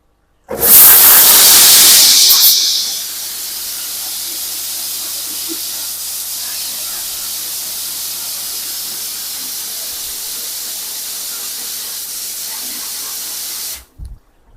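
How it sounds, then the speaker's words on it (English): Koi pond drum filter with its pump and shower jets rinsing: a loud burst of hissing spray at the start settles into a steady, continuous water hiss that runs evenly for the whole stretch, then cuts off abruptly. "turn back on my pump and the shower"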